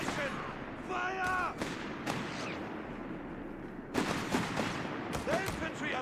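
German Grenadiers fire rifles in Company of Heroes 3, with repeated sharp gunshots and bursts of battle gunfire layered under shouted unit voice lines and battlefield noise.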